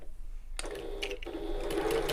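A sewing machine stitches across a fabric bag at regular stitch length, a short close run of rapid, even mechanical whirring with no talk.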